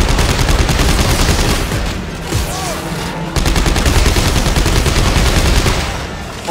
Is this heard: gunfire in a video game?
yes